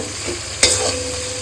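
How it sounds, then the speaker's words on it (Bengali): Tomatoes and green chillies sauté in a pan with a steady close sizzle, broken by one sharp scrape of a spatula stirring partway through. "কষাবো যতক্ষণে টমেটো একটু হালকা গলে ততক্ষণ আমাকে কষাতে হবে"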